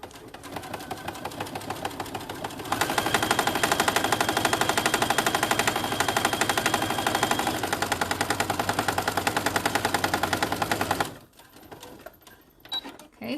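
A sewing machine stitches a small zipper pouch in a fast, steady run of needle strokes, loud and close, after a short slower start, then stops abruptly with only faint handling noises afterward.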